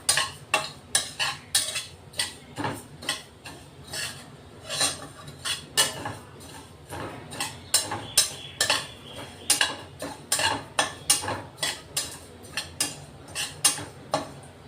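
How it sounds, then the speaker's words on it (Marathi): Cumin seeds dry-roasting in a pan, stirred steadily, giving a fast run of dry scraping and rattling strokes, close and fairly loud with no talking. "जिरे भाजून घेऊ आधी आपण। चांगला खमंग भाजायचा हा मसाला"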